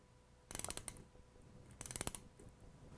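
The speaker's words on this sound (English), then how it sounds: "let's begin tightening the jacking bolts to pull the rotating assembly away from the volute" A ratchet tightens the jacking bolts on a Gorman Rupp T Series pump to draw the rotating assembly away from the volute: two short, quiet bursts of rapid clicking, about a second apart.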